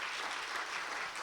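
A church congregation claps together during a Sunday afternoon service, a dense, even wash of applause that carries on steadily throughout.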